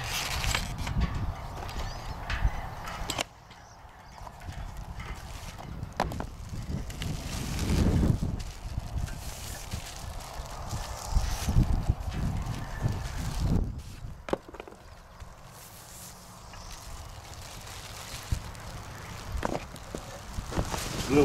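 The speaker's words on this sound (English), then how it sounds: "A little windy." Wind blows outdoors, rumbling steadily into the microphone while a gift box is unpacked, with gusts rising and falling and occasional handling knocks throughout.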